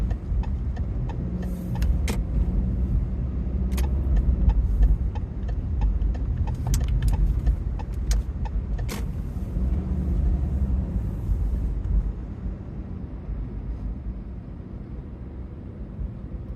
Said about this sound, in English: Here's the traffic.